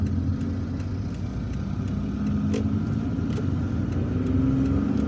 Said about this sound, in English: now what we are going to do is to drive down the Les Anassers Road